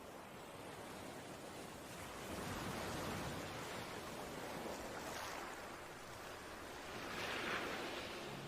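Broad rushing surf rolls onto the southern shore of a great inland sea, a steady wash of breaking waves that swells and eases in long surges, with some wind mixed in and no voices.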